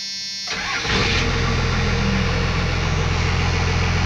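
After a short quiet moment, a 1996 Dodge 2500 diesel truck is started by remote starter: the engine cranks and catches within about half a second, then settles into a loud, steady, rumbling idle.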